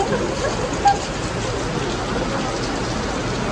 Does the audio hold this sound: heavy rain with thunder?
yes